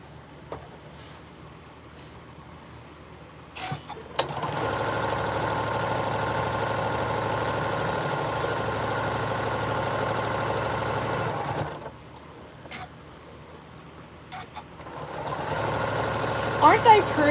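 A sewing machine stitches quilt blocks together, running in a steady whirring stretch of about eight seconds, then starts again after a pause, with a voice talking briefly around it.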